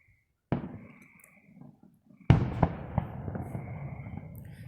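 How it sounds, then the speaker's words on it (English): High school fireworks show outdoors: a sharp distant boom, then a louder burst with crackling reports and a lingering rumble and fizz. "This is West Jeff fireworks."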